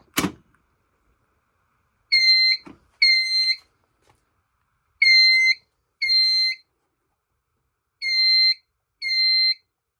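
An EST-3 fire alarm system sounds during a supervisory test, giving six loud, clear electronic tone pulses in three spaced pairs, each lasting about half a second, with silence between them and a brief thump at the start.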